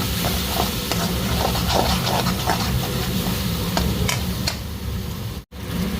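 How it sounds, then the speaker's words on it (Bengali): Chili powder, cumin and coriander powder frying with tomato for chana dal palak, giving a dense, steady sizzle with occasional scraping stirs close by and a brief dropout near the end. "লঙ্কার গুঁড়ো, জিরে ধনে পাউডার সাথে দিয়ে টমেটোর সাথে ভেজে নেবো।"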